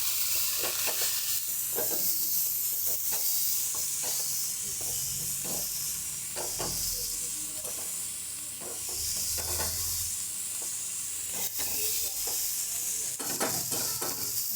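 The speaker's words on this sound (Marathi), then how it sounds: "हिरवी कोथिंबीर, मस्त असं मिक्स करून घेऊ." Eggplant curry with green coriander and onion greens is stirred in a pan, with steady frying sizzle and hiss under repeated scraping strokes of the spoon, close and continuous.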